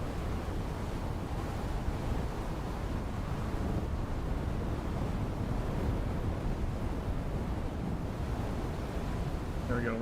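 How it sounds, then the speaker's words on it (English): Sandstorm wind in a desert survival game, a steady roaring rush of wind and blown sand that holds at an even level throughout without letting up. "A large sandstorm is approaching."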